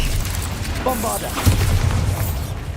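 Bombarda spell blasts in a Hogwarts Legacy battle against spiders: a heavy, close low boom rolls out, swelling with a second deeper thump partway through, as a voice speaks over the rumble.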